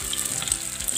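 Leftover rice cutlets shallow-fry in hot oil with a loud, close, continuous crackling sizzle that never lets up.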